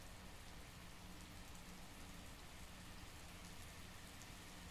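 Steady rain falling in the video game Zelda: Breath of the Wild, a dense, even hiss of drops that continues unbroken and fills the whole scene.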